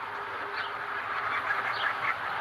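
Ducks in a backyard with raised beds and a chicken coop give a run of nasal quacks at moderate distance, blending with steady outdoor background noise.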